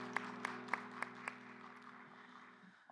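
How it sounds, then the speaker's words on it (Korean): During a Korean Sunday youth worship service, a handful of distinct claps ring out at a steady pace over a sustained organ-like keyboard drone, then stop while the held tone slowly fades. "박수로 서로를 격려하고 축복하겠습니다."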